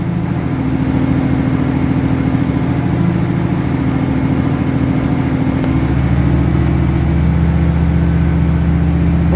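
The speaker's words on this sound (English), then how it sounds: "I'll hold the throttle steady, close the choke." The engine of a 1981 Daytona 500 pace car runs at a steady held throttle with the choke closed, a loud, continuous low drone with an even pulsing rumble and a slight shift in tone midway.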